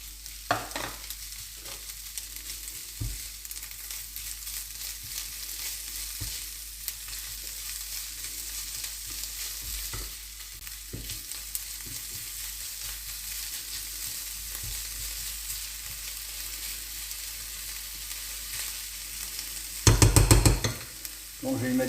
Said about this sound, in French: On va encore continuer à cuire les oignons.